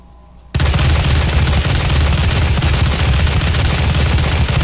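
Rapid automatic gunfire from a weapon in the video game Doom SnapMap bursts in after a brief quiet moment and then continues as a loud, dense, unbroken stream of shots to the end.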